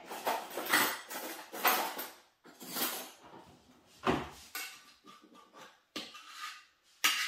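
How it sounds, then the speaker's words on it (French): A small spoon clinks and scrapes against a dish while a no-bake strawberry tart is made, in a series of short, close clattering knocks separated by brief pauses. "je vais prendre une petite cuillère"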